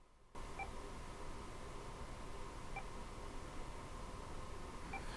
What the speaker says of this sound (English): It's like a beep,